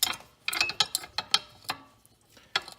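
The steering mechanism of a Craftsman GT6000 lawn tractor turns, giving a series of quiet, close mechanical clicks and ratcheting ticks in an irregular rhythm. Brief gaps separate clusters of taps.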